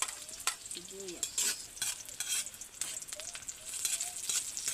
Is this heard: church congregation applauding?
no